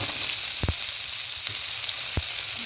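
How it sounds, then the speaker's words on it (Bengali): Sliced potato, eggplant and thick-cut onion frying in oil tempered with nigella seed, a steady close sizzle with a few sharp clicks from stirring the pan. "তার সাথে দেবো স্লাইস করে কাটা আলু আর স্লাইস করে কাটা বেগুন, ভাজা করে নেবো"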